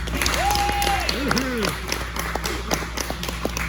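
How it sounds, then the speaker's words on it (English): Audience clapping for staff and bartenders at a comedy show in a bar, moderate and scattered, mixed with a tonal whistle-like sweep and a steady low hum. "Staff and bartenders first, clap for them."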